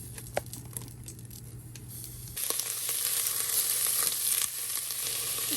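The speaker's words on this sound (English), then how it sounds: "add a little bit of olive oil to a big cooking pan, and we're going to add the onions first." Onions frying in olive oil in a large cooking pan, with a low sizzle that rises sharply halfway through into a louder, fuller crackle, close by and without talk.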